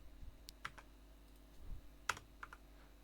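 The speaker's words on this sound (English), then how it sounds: "Why am I typing?" Keys on a computer keyboard are tapped in a few scattered, crisp clicks during form entry, quiet and close with no voice.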